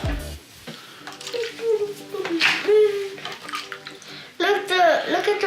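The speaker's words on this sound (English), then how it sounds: "we're supposed to pour this into the cup, so I think we're supposed to be pouring it back and forth" Liquid poured back and forth between cups during a home science activity with marbles, splashing and trickling in short bursts under the voices of a child and an adult talking.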